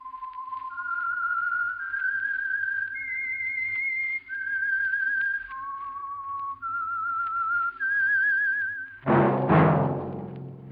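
A melodic whistled theme tune from the 1947 radio program The Whistler rises and falls through sustained, wavering notes, then breaks off into a sudden loud burst of noise.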